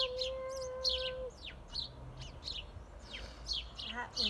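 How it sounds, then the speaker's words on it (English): Small birds chirp and trill in a backyard, with many short, bright calls overlapping at moderate distance, over a low background hum and a faint steady tone early on. "if you're really quiet, you can hear the birds"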